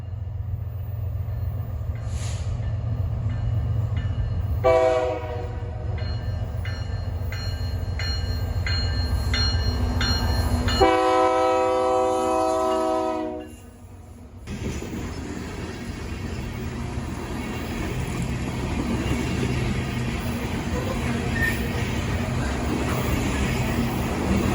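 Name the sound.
BNSF coal train with SD70MAC locomotive passing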